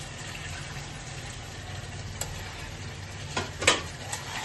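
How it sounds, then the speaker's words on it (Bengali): Potatoes being stirred into a chicken kosha curry in a pan, a soft steady sizzle with a few scraping strokes of a spoon near the end, close and fairly quiet. "আর একটু ভালো করে এর মধ্যে নাড়িয়ে নিচ্ছি।"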